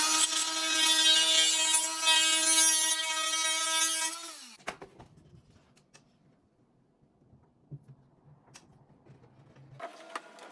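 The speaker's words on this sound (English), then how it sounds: "It's basically a belt-driven grinder, and it's great for using on old wood because it doesn't really damage it" A Restorer belt-driven grinder on nearly 200-year-old wood in a century-old loft whines loudly, then spins down after about four seconds, followed by quiet clicks and handling noises.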